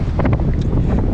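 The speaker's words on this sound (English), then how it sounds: "it's extremely windy" Strong wind buffets the microphone in a short, loud, low-pitched roar with gusty pulses, recorded outdoors during a long-range DJI Mavic 3 drone flight in extreme wind.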